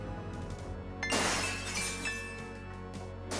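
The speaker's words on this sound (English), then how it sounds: "You will hear the faint sound of breaking glass." Glass shatters in the adventure game Gabriel Knight: Sins of the Fathers, a sudden bright crash followed by tinkling shards that ring out and fade over a steady ambient music bed.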